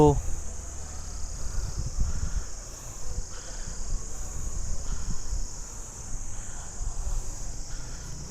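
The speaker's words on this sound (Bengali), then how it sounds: "এই ঝিঝি পোকার আওয়াজ আর এই শান্ত স্নিগ্ধ পরিবেশ" Crickets chirr in a constant high-pitched drone, with soft wind rumble and faint low background noise underneath, in a quiet hill setting near Shimla.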